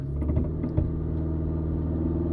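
A car engine with a P0300 misfire code, held on the brake while the throttle is pressed, gives a steady low rumble at a fairly even idle, with a few small bumps early on and no clear rise into a rev.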